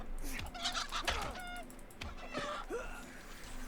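Chickens in the RuneScape: Dragonwilds game clucking and squawking in short, overlapping bursts at close range, with a few brief game sound effects mixed in.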